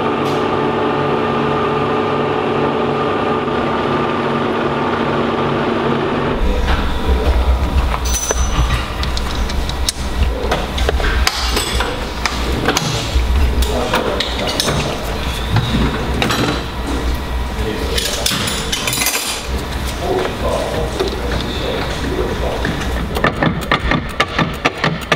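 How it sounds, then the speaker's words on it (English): A lathe running a reamer through an Ohlins shock part on a Ducati 916, a loud continuous mechanical drone with steady hum that starts abruptly and keeps grinding and rattling for the rest of the stretch. "I'll just go over to the lathe again, and we'll just run a reamer in it now"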